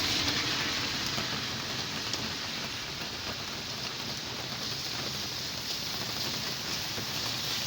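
Heavy rain pouring down as a steady, dense broadband hiss, constant in level and unbroken throughout, with no voices.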